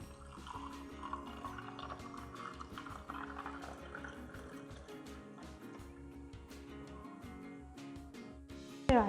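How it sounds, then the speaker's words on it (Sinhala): Milk poured over ice into a cup of iced coffee, a continuous soft liquid trickle and gurgle with faint clinks of ice, closing with a short louder knock. "අපේ කිරි එක එකතු කරගන්න."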